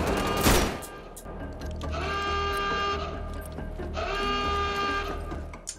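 Rifle gunfire in the shooter game Wolfenstein: The Old Blood cracks out in a loud opening burst, followed by sustained tonal game sounds and music-like drones, with faint shots and effects continuing underneath.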